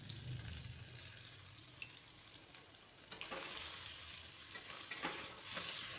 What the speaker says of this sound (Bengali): বেশি ফ্রাই করব না, একদম হালকা ফ্রাই করে নামিয়ে নেব